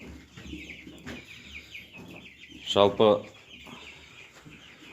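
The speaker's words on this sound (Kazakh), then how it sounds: "50 бройлердің 30 күнге толған балапандары осылай" Thirty-day-old Cobb 500 broiler chickens cluck and murmur softly in a flock, with one louder burst of clucking near the middle and someone speaking briefly.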